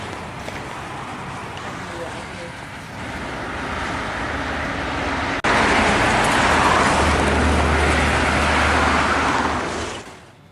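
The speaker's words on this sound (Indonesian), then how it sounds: "Kendaraan yang melintas dari arah Jabodetabek menuju arah timur didominasi kendaraan bus dan truk-truk besar" Steady roar of holiday traffic on the Jakarta-Cikampek toll road, heavy with buses and large trucks, a continuous near wash of engines and tyres that swells louder partway through and fades at the end.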